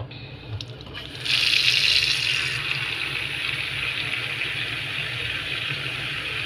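A steady stream of cool water pours and splashes continuously onto a flower plant, starting after a brief pause and holding at a constant rushing level.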